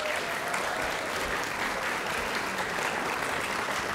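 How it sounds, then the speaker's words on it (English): A dense, steady round of clapping fills the hall at a state science fair awards ceremony as the audience applauds award winners, loud and continuous throughout with no voices over it. "let's give a round of applause to all of our Biological Science A winners"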